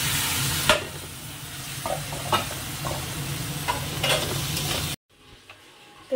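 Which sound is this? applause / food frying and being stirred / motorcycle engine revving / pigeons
food frying and being stirred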